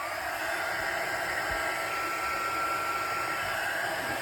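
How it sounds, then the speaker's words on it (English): Heat tool blowing hot air to melt embossing powder on a card, a loud steady whooshing drone held close and unbroken throughout. "now I've got my heat tool"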